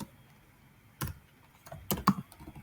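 Computer keyboard keys clack in a couple of short typing bursts, close and fairly crisp against a quiet background.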